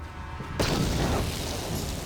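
A grenade detonates in Star Wars KOTOR during a fight with Rakghouls in the Undercity: one sudden loud boom that cuts in sharply, then a broad rumbling roar that lingers and slowly fades.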